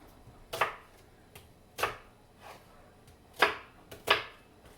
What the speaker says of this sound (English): I'm just dicing the onion, not chopping it up too much.